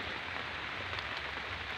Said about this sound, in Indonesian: ini habis hujan deras dan sekarang lagi tinggal gerimisnya